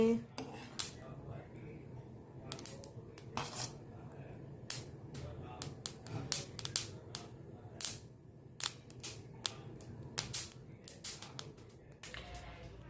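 Dates, almonds, cashews, pumpkin seeds and flaxseed dry roast in a pan, with a spatula striking metal in sharp, irregular clinks and rattles over a quiet background.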